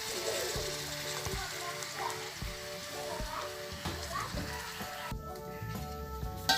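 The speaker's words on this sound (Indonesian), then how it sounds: "Nah, ayeuna urang pake cai sacukupna." A pan stir-fry of green chilies sizzles steadily, then splashes and hisses as water is added, with faint stirring taps and a quiet background tone throughout.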